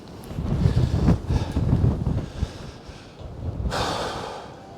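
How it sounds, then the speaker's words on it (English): Strong Storm Darragh gusts buffet the microphone outdoors in a barn yard, a rough, breathy roar that surges and fades over several seconds, with a brighter hissing rush building near the end. "Wind's picking up again."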